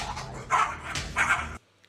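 A dog barks in two or three loud, close, strained bursts with yelping edges, then stops abruptly into near silence; no speech.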